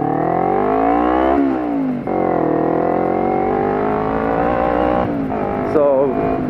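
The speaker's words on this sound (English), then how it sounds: "All right, car, I'm following you." A car driving on a road, heard from inside a following vehicle as a loud, steady engine hum with shifting pitch as speed changes, under a person talking.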